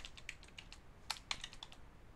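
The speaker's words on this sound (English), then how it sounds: "I'm going to type service." Quick keystrokes on a computer keyboard, a soft, close, irregular run of about a dozen light clicks with a couple of firmer taps, heard alone without talking.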